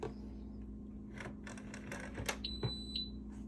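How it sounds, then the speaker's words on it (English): A short, clear electronic beep as the lid of a 10-quart canner pressure cooker locks, sounding once near the end over a steady low hum, with a faint tone lingering briefly after it. "it will make a beep once it's locked"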